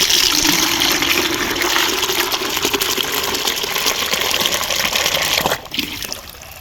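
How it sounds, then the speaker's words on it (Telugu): Steady rushing water pours loudly and continuously from a tap filling a bucket for compost tea, then the flow cuts off near the end leaving a few drips. "ఈ బకెట్ నిండుగా వాటర్ అయితే ఫిల్ చేసుకోవాలి"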